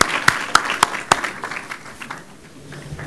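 A conference audience claps for the panelists after a Middle East regional security session. A few sharp, sparse claps sound at first, then fade into a soft, scattered patter.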